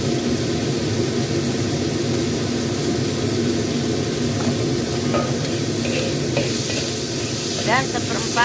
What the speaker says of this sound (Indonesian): Tumis hingga sampai semua tercampur rata.